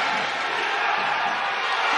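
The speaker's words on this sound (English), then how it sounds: "And the crowd love every moment." Basketball crowd at a FIBA Women's AfroBasket 2021 game between Cameroon and Mali, cheering in a dense, steady roar that stays loud and unbroken throughout.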